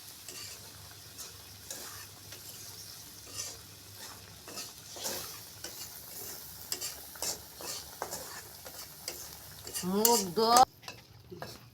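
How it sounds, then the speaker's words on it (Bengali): Fish being fried and stirred in a pan, with a soft sizzle under repeated scraping and clinking stirring strokes, close by, and a brief voice near the end. "দেখেন কি সুন্দর মাছ কষায় ফেলাইছে।"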